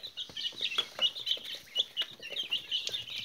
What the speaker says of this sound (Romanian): Sunt prea proști ăștia de prepeliță.